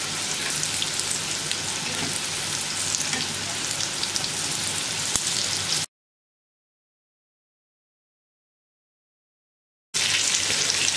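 Steady, crackling sizzle of zucchini frying in hot oil over medium heat, continuous and close, cutting out to silence for about four seconds before resuming.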